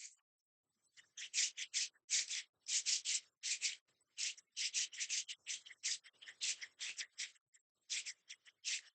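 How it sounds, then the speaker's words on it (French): Palms of the hands rubbed briskly together, a dry, close, quiet swishing in quick irregular bursts with brief pauses, no talking. "Frotte tes paumes l'une contre l'autre pendant 10 à 15 minutes."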